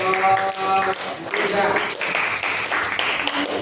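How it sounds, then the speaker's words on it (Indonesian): A classroom claps for a student group, a busy patter of many hands continuing throughout, with voices talking over the clapping. "Beri tepuk tangan buat kelompok"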